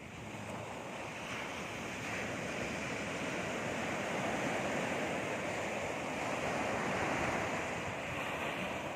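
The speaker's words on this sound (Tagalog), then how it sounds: "Yan mga alon" Ocean waves wash onto the shore ahead of an approaching storm, a continuous roar of surf with wind noise buffeting the microphone, swelling slightly midway, with no voices.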